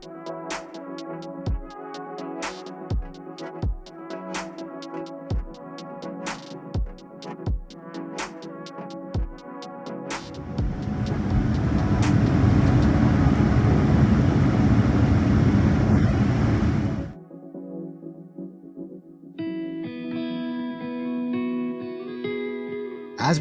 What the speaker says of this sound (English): As we take off and get closer to London